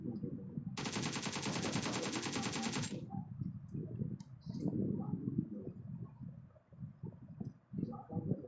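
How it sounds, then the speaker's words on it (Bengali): SCAR rifle gunfire in the PUBG video game, a rapid automatic burst of about two seconds over background game noise and rustling, with no talk. "স্কারেল দিয়ে মারতে হবে আমাকে"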